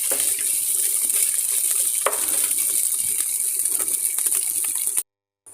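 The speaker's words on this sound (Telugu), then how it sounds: "ఇప్పుడు అల్లం వెల్లుల్లి పేస్ట్ వేసుకోవాలి వన్ టేబుల్ స్పూన్ వేసి కొద్దిగా వేయించుకుంటూ ఉండాలి" Ginger garlic paste frying in a pan for tomato rice, a steady loud sizzle with occasional scrapes of stirring, ending abruptly in silence.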